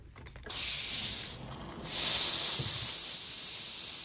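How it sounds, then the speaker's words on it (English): A steam iron pressing fusible fabric on a silicone pad gives a few short bursts of hiss, then a stronger continuous steam jet that fades slightly toward the end. "Here comes the steam."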